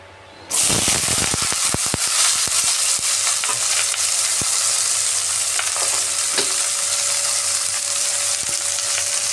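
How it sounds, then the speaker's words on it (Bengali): Okra dropped into hot oil with turmeric bursts into a loud sizzle almost at once, then keeps up a dense, steady fry hiss scattered with sharp pops and crackles. "হলুদ দিয়ে ভেন্ডিটাকে আগে আমি ভেজে নিচ্ছি।"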